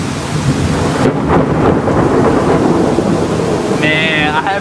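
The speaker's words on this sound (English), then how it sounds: "Man, I haven't heard thunder like that in so long" Close thunder rumbles and cracks loudly through a thunderstorm, layered over a steady wash of heavy rain, with a brief faint tone near the end.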